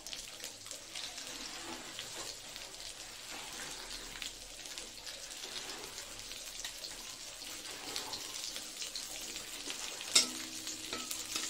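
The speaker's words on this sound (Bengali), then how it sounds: "একটু শুকনো লঙ্কাটা ভাজা ভাজা হয়ে যাক।" Dried red chilies and cumin seeds fry in hot oil for tempering dal, giving a soft, continuous crackling sizzle with some faint clinks and a brief sharp knock near the end.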